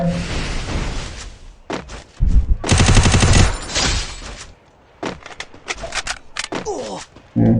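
Rapid bursts of automatic gunfire crackle in a Free Fire match, with a long sustained volley in the middle and scattered sharp shots after it, while a player talks excitedly.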